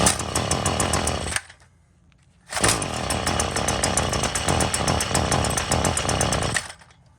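A Stihl FS40C string trimmer's small two-stroke engine starts on half choke and runs loud and close, cuts out briefly to near silence, then fires again and keeps buzzing before dying away.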